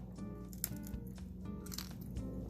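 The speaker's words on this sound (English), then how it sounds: "I'm just gonna give it a bite." Someone bites into a soft piece of air-fried frozen lasagna with crunchy edges, making faint, close crunching and chewing sounds in a quiet setting.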